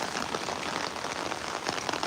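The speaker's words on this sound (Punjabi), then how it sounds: "ਮੀਂਹ ਹੁਣ ਵੀ ਬਹੁਤ ਪੈਂਦਾ" Heavy rain pours down steadily, a dense, even hiss of drops drumming on surfaces close by, with no voices.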